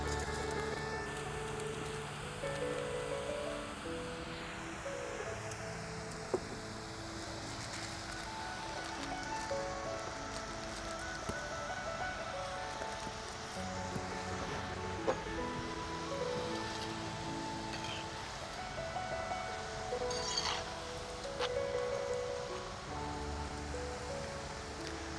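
Murukku dough frying in hot oil in an iron pan makes a steady, soft bubbling hiss that runs throughout, with occasional small pops and a faint tonal tone early on, and no one talking.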